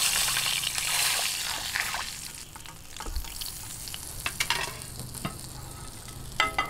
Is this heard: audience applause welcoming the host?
no